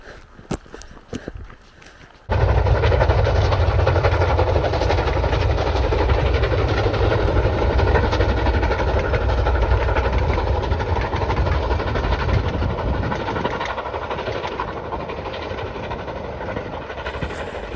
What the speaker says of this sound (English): Is that a steam train?